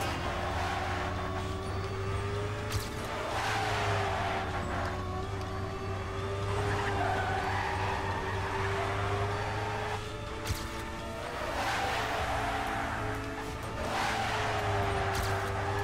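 Cars drive in a real-time strategy video game match, giving a steady engine drone with tonal whines and occasional skid-like squeals running throughout, with no speech.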